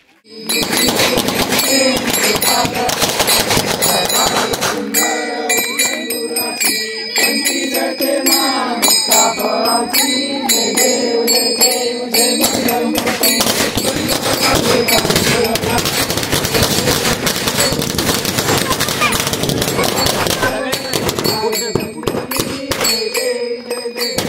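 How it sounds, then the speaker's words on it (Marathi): A long, dense barrage of rapid crackling bangs during a Ganesh immersion celebration, firecrackers popping continuously and loudly with sharp bursts throughout, no pause for nearly the whole stretch. "मुलं इथे फटाके लावत आहेत"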